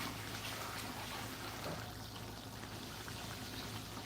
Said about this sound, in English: I'm washing my rice so I can put it in the rice cooker.